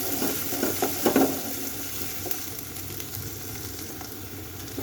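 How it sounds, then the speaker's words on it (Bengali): Fish frying in a pan of hot oil for an egg and potato curry, a steady close sizzle with a few louder crackles and stirring scrapes, no voices. "মাছটা ভেজে নিই।"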